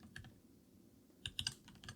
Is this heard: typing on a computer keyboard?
yes